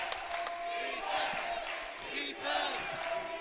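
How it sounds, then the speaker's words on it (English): Crowd at a varsity high school basketball game, Frisch Cougars versus North Shore, chanting and cheering steadily throughout, dense and continuous with a brief dip midway before swelling again. "Chance of defense from the crowd as Abizadeh looks to work inside"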